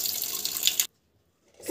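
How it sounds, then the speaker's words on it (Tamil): Tap water runs steadily into a pot for dal for under a second, then cuts off to near silence before a faint splash or clatter returns at the end. "தண்ணி போடலாம்."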